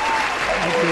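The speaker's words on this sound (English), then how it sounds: "Give a big round of applause to Vyuma." Brief audience applause for the winner of a game show segment, a dense burst of steady clapping lasting about a second with a voice speaking over it.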